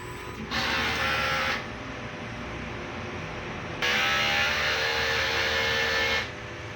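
A DTF printer runs its print head cleaning cycle, whirring in two mechanical stretches, a short one followed after a pause by a longer one, with quiet gaps between.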